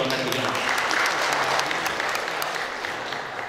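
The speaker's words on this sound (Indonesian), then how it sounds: "Tepuk tangan dong untuk kedua K3." Sustained audience applause fills a safety seminar on workplace emergency response, dense clapping steady throughout with some crowd noise and voices mixed in.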